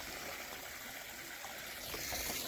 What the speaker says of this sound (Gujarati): આ ડોલ ભરે છે બંધ કરી દે ચકલી